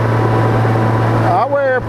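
A Honda GoldWing motorcycle engine hums steadily while riding, with a constant low drone and wind rush, and a voice talks over it near the end.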